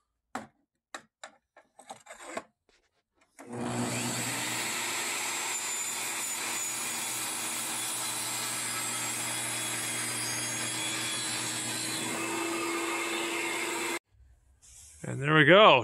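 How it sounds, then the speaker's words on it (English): A few sharp knocks, then a table saw whines loud and steady through a long cut in wooden boards before stopping abruptly, followed by a brief rising noise. "So we're just running through this table saw here."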